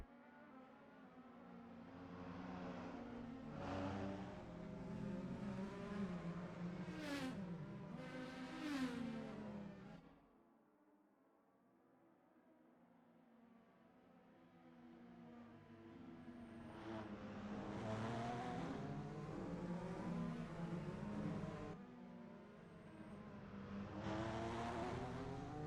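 Indycar race cars and a safety car in a sim racing game at Detroit, engines droning and revving in long swells, dipping to a quieter lull midway before rising again, fairly faint throughout.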